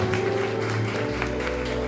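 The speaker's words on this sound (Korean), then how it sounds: "여러분 박수 부탁드립니다" Wedding guests applaud at a ceremony, a dense, even patter of many hands clapping loudly and continuously through the short moment.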